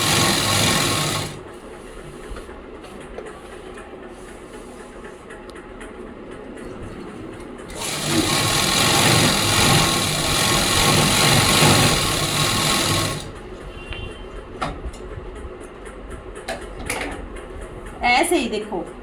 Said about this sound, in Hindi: 1/2 इंच का मार्जिन देते हुए इसकी सिलाई करते हैं।